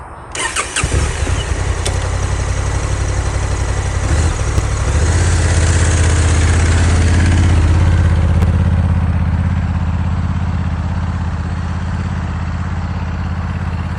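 A Honda Africa Twin Adventure Sports DCT motorcycle starts up and then runs loud and close, its steady engine note swelling in the middle before settling, while the rider practises figure eights.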